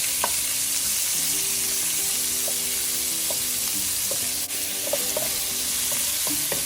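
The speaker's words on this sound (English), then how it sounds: "Flip shrimp over to the other side and cook it for another minute and a half." Shrimp frying in a skillet, a steady close sizzle filling the whole stretch with scattered spatter pops and faint clinks of a utensil or pan, no voices.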